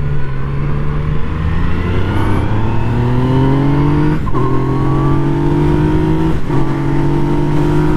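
A 2017 Yamaha FZ/MT-09 motorcycle pulls hard from a second-gear start, its engine note rising steadily and loud, with two brief dips as it shifts up before climbing again.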